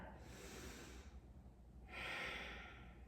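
Slow, deep breathing during a Warrior Two yoga pose: one soft inhale and exhale, a brief quiet pause, then a louder, airier breath. Both are close, gentle and heard alone.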